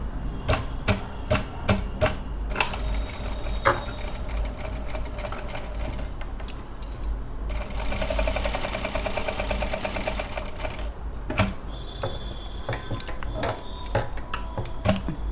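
A sewing machine stitches a circular pattern in fast rhythmic bursts of needle clatter, with pauses and clicks between runs and one longer steady stretch midway; close and clear, with no voices.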